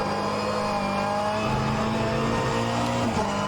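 A Ferrari GT3 race car in the rFactor 2 sim drives at full throttle with a loud, steady engine drone. Its pitch shifts through gear changes, with faint tire noise underneath.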